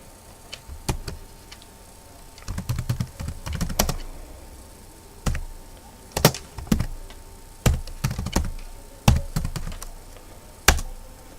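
Keys clatter on a computer keyboard in quick bursts of typing broken by short pauses, close and clear, with no voices.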